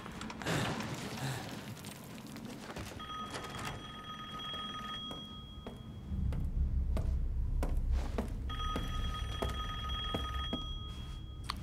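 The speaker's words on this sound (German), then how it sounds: "Ich höre es klingeln." An old-style telephone bell rings in two bursts with a pause between, over a low rumbling background and scattered clicks, in the game Village.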